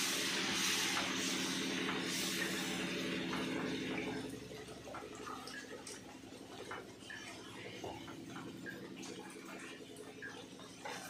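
Water poured into pav bhaji cooking in a pan, a steady splashing pour for the first few seconds, then a softer bubbling simmer with faint scraping sounds continuing to the end.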